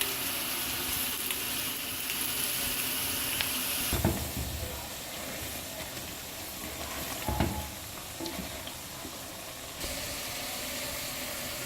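Onions sizzle steadily in hot oil, a constant crackling hiss broken by a couple of stirring scrapes.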